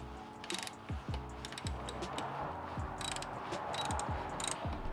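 A hand ratchet clicks in repeated short bursts while tightening screws on a cold air intake in a Subaru WRX STI engine bay, close and moderately loud over a low background hum.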